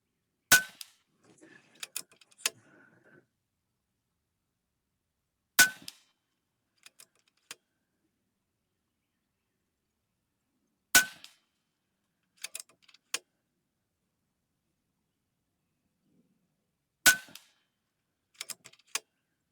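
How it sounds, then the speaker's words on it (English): A .22 caliber airgun fires five sharp shots at a target, each a loud crack spaced several seconds apart, with brief metallic clinks and small handling noises between them and no talking. "Let's give you 5 shots."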